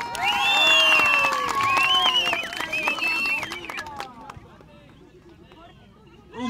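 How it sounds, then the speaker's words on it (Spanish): A lively crowd at a Chicocana competition cheers and applauds for a competitor, loud at first, then thinning out, with shouting voices and whistles mixed through the noise. "Un aplauso para Jorge."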